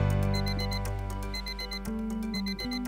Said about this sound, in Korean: 오늘도 알람 소리와 함께 하루를 시작하는 조희경 씨.